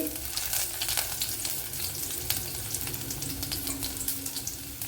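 Ginger and garlic pieces sizzle in hot oil in a pan while a Kerala okra curry is being prepared, making a steady close crackle with scattered pops throughout.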